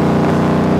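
A 2011 Ford Mustang fitted with a MagnaFlow exhaust gives a brief, loud, steady engine drone with a deep, even rumble and no pause.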